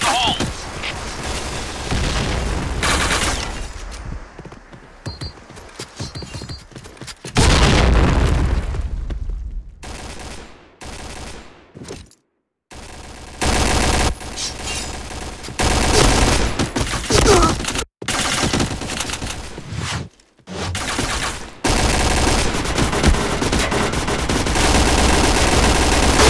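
Grenade blasts and rapid gunfire from a Point Blank clan war match on the Downtown map fill the scene, with loud, dense bursts of automatic fire and booms broken by brief silences, while players shout over the action.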